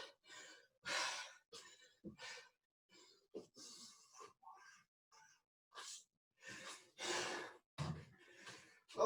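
Heavy, deep breathing after a kickboxing fitness workout, a series of loud, close breaths and sighs in irregular bursts.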